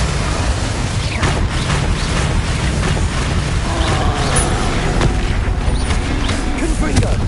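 Spell blasts in the Hogwarts Legacy video game, a dense rapid barrage of booming explosive bursts and crackling impacts over a constant rumbling bed of battle noise, loud and continuous throughout.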